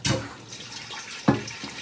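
Water runs from a tap into a pot while ogbono soup is being cooked, a short splashing flow with a brief louder gush near the end.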